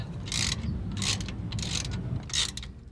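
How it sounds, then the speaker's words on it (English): Ratchet with an external Torx E12 socket on a long extension working differential cover bolts on a Sprinter van, four bursts of rapid clicking spaced about half a second apart over a low hum. "To remove the original diff cover bolts, you'll need an external Torx E12 socket."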